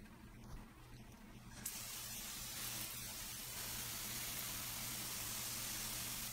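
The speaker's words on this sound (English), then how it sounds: "I've got this sprayer kind of set so it's not set or like a straight stream, it's diffusing" A garden sprayer set to a diffuse mist sprays fish emulsion onto seedlings, a soft, steady hiss that starts after a moment and continues evenly over a low background hum.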